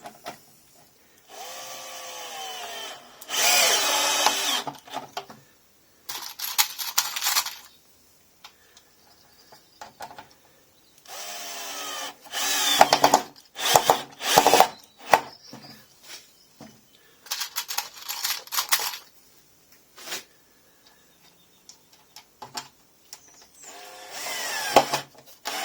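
A power drill boring into wood in several bursts of whining, grinding noise, separated by short quiet pauses and occasional clicks.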